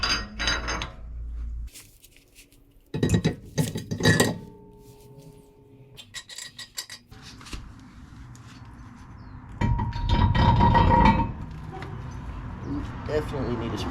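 Metal wheel spacers clink and clatter in a box being rummaged through in bursts during a wheel fitment on a stanced, air-bagged BMW F80 M3, with moderately close jangling between quieter gaps.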